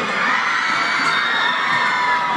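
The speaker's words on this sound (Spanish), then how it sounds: "Un aplauso para los chicos" A crowd cheers and applauds continuously at a live fan event with YouTubers in Argentina, children's voices yelling over a steady roar of excitement.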